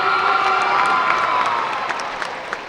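A stadium crowd at an IUP football game cheers and applauds after the national anthem, a broad sustained roar with scattered whoops and shouts that slowly fades.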